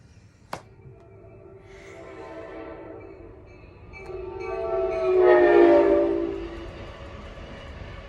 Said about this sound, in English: Divine confirmation if you can hear the train.